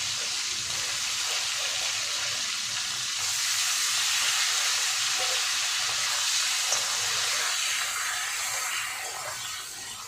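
Stalks and potatoes fry with black cumin in hot oil, giving a steady loud sizzle that holds for several seconds and fades slightly toward the end.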